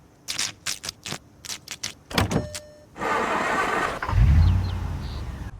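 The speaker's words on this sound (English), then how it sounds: "He hot-fired the truck and started it." A truck in the video game Project Zomboid is hot-wired: rapid mechanical clicks and rattles come first, then the starter cranks and the engine catches into a loud, low rumble.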